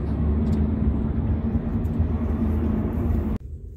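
Busy road traffic at a junction near Boxpark, a dense steady rumble of many vehicles passing close by, continuous and loud before cutting off abruptly near the end.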